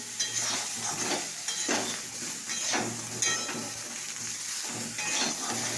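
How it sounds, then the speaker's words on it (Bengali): Spoon scraping and stirring turmeric-spiced food in a frying pan over steady sizzling, with soft repeated strokes close by and no talking. "এবার আমি নাড়াচাড়া করব। এটা একটু নাড়াচাড়া করবো।"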